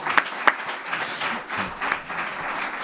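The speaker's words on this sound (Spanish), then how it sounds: "pero le vamos a dar otro aplauso a Juan Luis." Audience applause at a summer-course lecture session in El Escorial, brief clapping with a couple of sharp louder claps at the start, then softer scattered clapping fading out.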